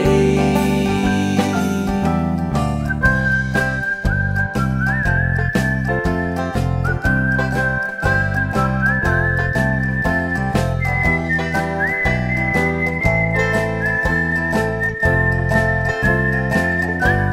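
A person whistles a bright melody in clear, sustained notes that glide between pitches, set over steady instrumental backing that keeps a regular beat throughout.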